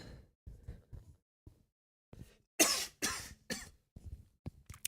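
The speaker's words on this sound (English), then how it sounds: "Sorry, I had a little bit of a cough there." A man coughs several times in short, harsh bursts, loud and close, with a couple of stronger coughs in the middle and softer throat-clearing sounds separated by quiet gaps.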